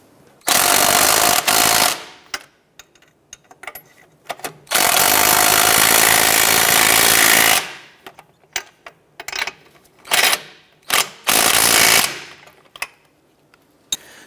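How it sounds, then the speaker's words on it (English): Power tool running down nuts on the strut assembly of a 2006-2013 Chevrolet Impala, loud buzzing bursts of a few seconds each, then short stuttering pulses with brief pauses between. "let's go ahead and snug these nuts down"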